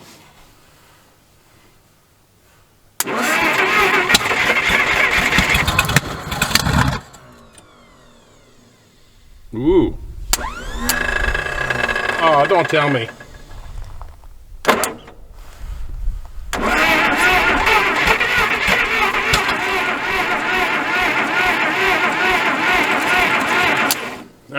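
An old engine is cranked and catches in loud, rough bursts, sputtering and cutting out between attempts as it struggles to keep running, with a man's brief exclamations over it.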